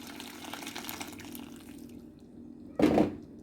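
Hot water splashes into a cooking pot in a home kitchen, a short, loud gush near the end after a quieter stretch of faint background noise.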